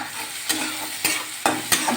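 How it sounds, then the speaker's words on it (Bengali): Chopped onion, green chilli, garlic and ginger fry in hot refined oil with a continuous sizzle, while a spatula scrapes the pan in four sharp strokes about half a second apart, close up. "আমি একটু লাল করে ভাজবো"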